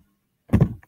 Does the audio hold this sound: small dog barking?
no